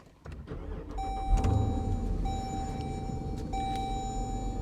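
A Jeep Trackhawk starts up with a short burst of cranking that catches into a rising rev, then settles to a steady deep idle inside the cabin while a tonal chime sounds intermittently.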